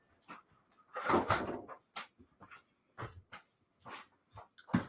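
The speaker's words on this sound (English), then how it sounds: "hold on, I gotta shut my door." A door of a small backyard she shed pushed shut, giving a few scattered knocks and bumps with a louder thud and rattle partway through, close by in a quiet room.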